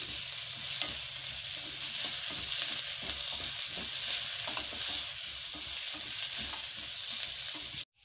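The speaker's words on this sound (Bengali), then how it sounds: "কাজুটা দিয়েও কিন্তু আমি একটু ভেজে নেব।" Chopped onion and about two dozen cashew nuts frying in oil in a pan, a steady close sizzle with soft stirring scrapes, constant and unbroken until it cuts off abruptly at the end.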